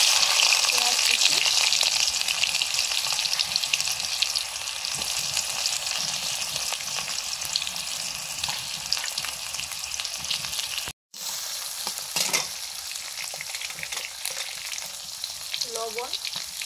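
Chopped onions fry in oil for ghugni, a continuous close sizzle with faint stirring scrapes and one brief break partway through.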